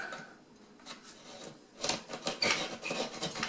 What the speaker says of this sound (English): It's a reciprocating saw blade, and I'm just kind of working this hole and work it down a little bit